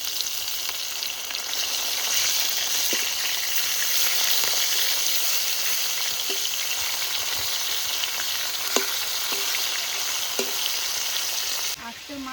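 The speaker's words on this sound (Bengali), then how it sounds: "এবার মাছ উল্টিয়ে দেবো।" Fresh rohu fish frying in mustard oil in a wok, a loud continuous sizzle with occasional soft clicks and scrapes of a spatula as the pieces are turned, ending with a brief shift in tone.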